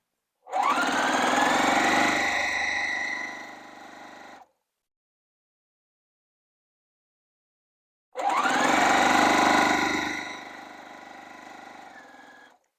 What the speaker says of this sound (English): piecing them in one long strand without cutting your thread between units